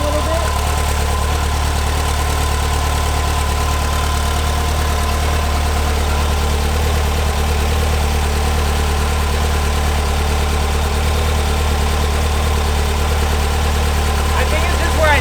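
A newly installed engine idles in a 1970 VW bus, a loud, steady, low rumble that runs unbroken and close throughout, with a faint voice now and then over it.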